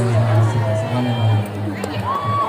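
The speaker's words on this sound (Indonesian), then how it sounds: "Kasih tepuk tangan dulu." School audience at a student council election debate cheering and whooping, a close, lively burst of crowd noise with voices and shouts that swells then eases.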